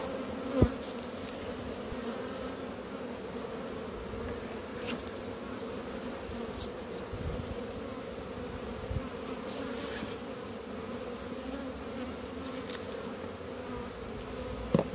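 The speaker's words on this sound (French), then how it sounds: "comment on fait passer le reste des abeilles qui étaient en ruchette en ruche" Honeybees buzz steadily as a colony is moved from a nucleus box into a full hive, a dense, continuous hum close by with a few soft knocks from the boxes.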